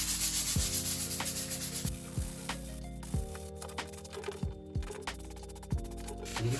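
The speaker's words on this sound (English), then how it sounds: "I'm going to do a bit of light sanding with the same sanding pad just to take off any ridges" Light hand sanding of filler on a Porsche seat with a sanding pad, repeated soft rubbing strokes in an irregular rhythm, close and fairly quiet, with no talking.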